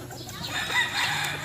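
A Boston Roundhead broodcock rooster, its sound somewhat faint and diffuse, with a soft cluck or partial crow rising mid-clip over light background noise.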